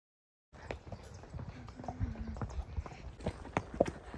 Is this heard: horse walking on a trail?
yes